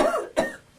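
A single man coughs into his elbow, one sharp harsh burst at close range with a brief rough tail, preceded by a faint breathy rasp.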